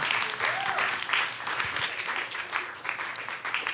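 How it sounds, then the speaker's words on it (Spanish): Church congregation applauding after a closing prayer in a discipleship class, a steady wash of many hands clapping at moderate volume with some voices mixed in throughout. "Dale un aplauso al Señor"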